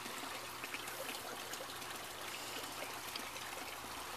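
Water trickles and splashes continuously through an aquaponics grow bed system, a steady hissing burble of flowing water close by with no voices.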